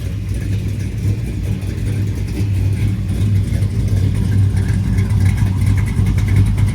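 A 1986 GMC Sierra truck with an LSX swapped engine and Holley Terminator X Max control runs nearby with a deep, loud rumble, throttle building gradually into a heavier rev through the stretch, no talking.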